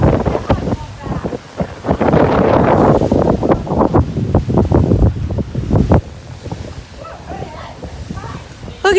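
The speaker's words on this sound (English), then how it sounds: "Check out the waves." Strong ocean waves crash and roar under gusting wind that buffets the microphone in stormy, rainy weather, loud and continuous, with a person talking over the surf.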